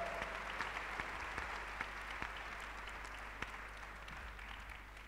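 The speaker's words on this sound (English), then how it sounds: "Ladies and gentlemen, please welcome her with a warm round of applause." Audience applause welcoming a speaker at the 2017 Global Entrepreneurship Summit plenary session, a steady sustained clapping of a large crowd in a hall, moderately distant and continuous throughout.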